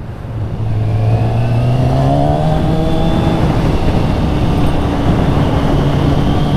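A stunt-prepared Kawasaki ZX6R 636 motorcycle engine roars steadily up close, its pitch climbing gradually as it accelerates, with no voices.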